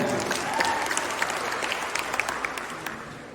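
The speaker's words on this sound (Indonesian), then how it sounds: "Boleh tepuk tangan untuk MC dan seluruh panitia." Audience applause for the MC and organizing committee at a university scholarship information session: a fairly quiet, steady clapping with a few sharper individual claps, gradually fading.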